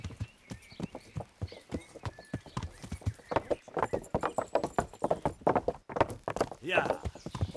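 A horse gallops in the medieval video game Kingdom Come: Deliverance, its hooves drumming a quick, uneven clip-clop. A player talks over the hoofbeats, and a short whinny comes through near the end.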